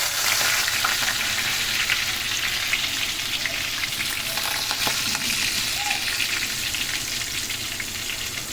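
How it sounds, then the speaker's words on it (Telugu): Fenugreek seeds fry in a pan for a Telugu chapala kura (fish curry), giving a steady, loud sizzle and crackle throughout with occasional faint stirring scrapes, no talking. "ఆ మెంతులు వేగాయి"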